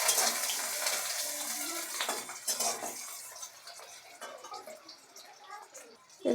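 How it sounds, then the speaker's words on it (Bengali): Chopped onion fries in a pan for ghughni while a metal spoon stirs it, with clinks and scrapes over a sizzle and a voice talking at times. "তো এর মধ্যে এবারে দিয়ে দেবো কুচনো পেঁয়াজ। দিয়ে এটা আমি হালকা একটু ব্রাউন কালার ডিপ করে নেবো।"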